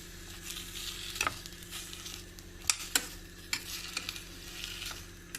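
Onions sizzle gently in a hot pan for soup, with a few sharp scrapes and clicks of a utensil stirring at irregular moments.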